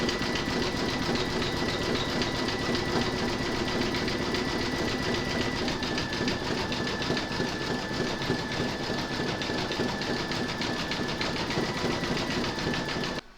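A sewing machine runs steadily in a zigzag stitch around the raw edges of a quilted fabric heart coaster, a continuous close mechanical whir with rapid needle rhythm that holds throughout and stops right at the end.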